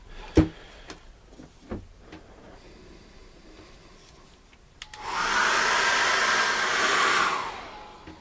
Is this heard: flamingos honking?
no